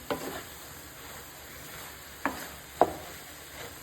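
Carrots cooking in an open, uncovered pan, with a quiet steady sizzle broken by a few sharp scrapes of a spoon stirring them, and no talking.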